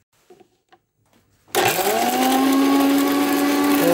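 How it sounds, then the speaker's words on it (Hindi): An electric grinder loudly grinds chillies into chili paste, starting abruptly after a few quiet clicks and then running as a steady high-pitched whine to the end. "अभी हम लोग जो है ग्राइंडर में इसको पीसेगा"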